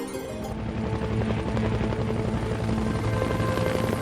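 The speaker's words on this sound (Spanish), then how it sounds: "El helicóptero de turbina fue el símbolo de la guerra de Vietnam." A turbine helicopter gives a loud, continuous drone, a dense engine whine over a throbbing rotor rumble that holds steady throughout.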